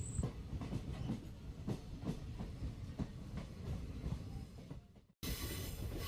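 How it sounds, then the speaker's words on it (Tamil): A passenger train on the Thenmalai to Sengottai line arriving at Edappalayam, heard from on board as a steady rumble with rhythmic wheel clacks and light squeals before an abrupt cut. "இப்போ நம்மளுடைய ரயிலானது தென்மலையிலிருந்து 3ஆவதாக இருக்கக்கூடிய எடப்பாளையம் அப்படிங்கிற ரயில் நிலையம் வந்துருச்சுங்க"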